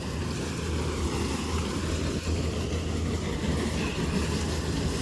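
A John Deere 5405 tractor, 63 hp, powers a maize sheller through its PTO, giving a steady, loud mechanical rumble and rattle with no break and no voices.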